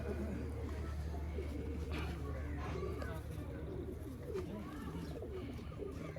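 Repeated low coos from a group of kept pigeons, including white ones, continue for several seconds, close by and steady, with some talking in the background.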